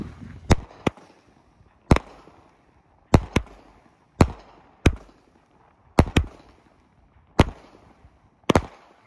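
A 25-shot Outlaw Pyro firework cake fires a series of sharp, loud booming bursts, roughly a dozen cracks spaced about a second apart, some in quick pairs, each trailing a brief crackle.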